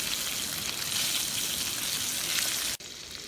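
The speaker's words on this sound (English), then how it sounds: "Cooking, boys. You see the sausage." Sausage frying in a pan at a cold-weather camp, a dense steady sizzle and spatter close up that runs unbroken and then cuts off abruptly near the end.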